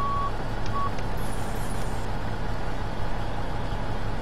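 Two short electronic reversing beeps sound near the start from an AI tractor trailer in a video game, over a steady low truck engine rumble that continues alone afterward.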